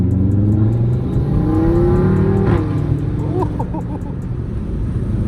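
Turbocharged car engine heard from inside while driving, a steady loud drone with rising whine and a few light pops, close and continuous with no talking.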